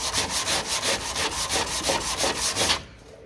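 Rhythmic dry sanding of filler on a Mk2 Escort door sill with sandpaper, steady back-and-forth rasping strokes close up, about a dozen passes before stopping abruptly.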